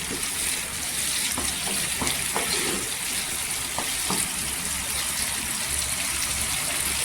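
Green chillies sizzling in hot oil in a pan, a steady close frying hiss broken by a few faint clicks and pops.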